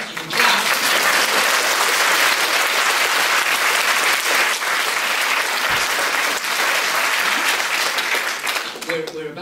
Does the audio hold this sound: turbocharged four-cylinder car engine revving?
no